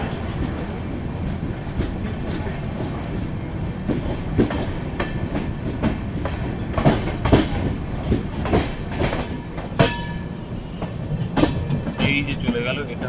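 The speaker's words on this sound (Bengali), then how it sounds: "নিউ ফারাক্কা জাংশন ছাড়ছে আমাদের ট্রেন" Sairang–Kolkata Express pulling out of New Farakka Junction, heard from inside as a steady loud rumble with rhythmic clickety-clack wheel beats and occasional sharper rail knocks, continuous throughout.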